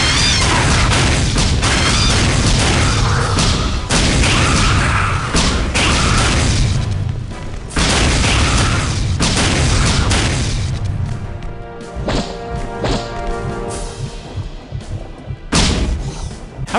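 Loud, repeated booming explosions in the video game AVP2: Primal Hunt in quick succession, heavy and close, with crashing debris and a brief lull before a final blast.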